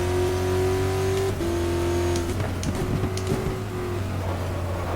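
Race car engine in GTR2 during a WEC 2015 race at Spa-Francorchamps, with an LMP2 prototype passing: a loud, steady high-revving drone with sustained engine tones that shift pitch as the car draws alongside.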